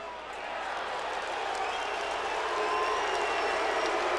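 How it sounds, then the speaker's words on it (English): A large football stadium crowd at an Oklahoma versus Tulsa game roars and applauds in a broad, steady wash of cheering that swells slightly toward the end, heard from a distance. "Really interesting to hear the mixture of the crowd here."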